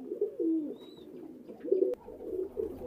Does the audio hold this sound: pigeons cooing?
yes